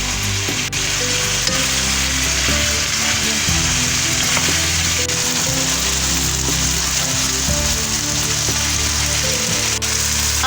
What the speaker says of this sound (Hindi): इसको हम थोड़ी देर भून लेंगे फॉर 2 to 3 मिनट्स।